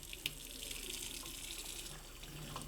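Water from a sink faucet runs steadily over a gutter screen, a faint continuous splashing hiss close by with no voices.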